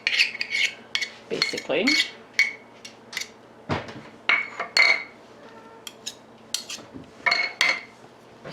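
A spoon or whisk mashes flour into butter for a homemade chicken pot pie roux, producing irregular clinks and scraping taps against a metal pan or bowl, close and crisp, with a brief spoken word.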